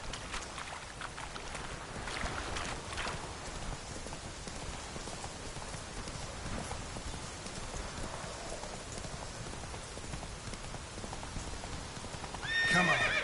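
Horse galloping in The Witcher 3, quick rhythmic clip-clop of hooves over a soft rain-like hiss, steady and moderate, with a brief louder burst near the end.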